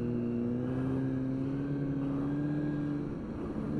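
An old Kawasaki motorcycle engine runs steadily at a low, even idle, a close and continuous hum with slight wavering and no talk over it.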